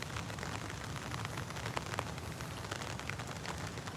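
Rain falling steadily on a vegetable garden with tomato plants, a dense even patter of drops on leaves and surfaces, soft and continuous throughout with no talking.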